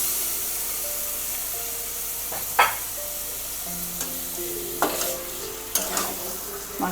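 Spice masala for chicken shahi korma fried and stirred in a pan, a steady close sizzle broken by several sharp scraping stir strokes, with no talking.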